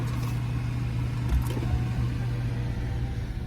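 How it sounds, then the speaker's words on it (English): Car engine idles with a steady low hum as the vehicle rolls into a parking garage, a continuous moderate drone with a couple of soft thumps and no talking. "I'm just now pulling into the parking garage."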